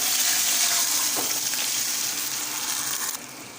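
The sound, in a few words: semolina tamarind batter added to hot tempering, sizzling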